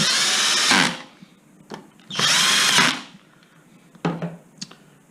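A power drill on setting 5 drives screws while reassembling a Zip X5 gearbox, whirring in two long bursts, then a few short quick pulses, close by with quiet pauses between.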